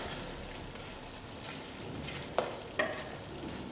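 Thick Durban-style chicken curry is stirred in a pot over a soft sizzle, with two distinct spoon knocks against the pot's side close together near the end; no one speaks.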